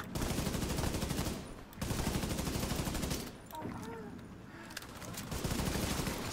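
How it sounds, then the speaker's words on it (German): Dense automatic gunfire in The Division 2 on hardcore mode, loud sustained bursts of rapid shots rattling in two long volleys with a brief pause between, then a quieter stretch before firing resumes. "Oh, schon von der Seite werde ich angeschossen."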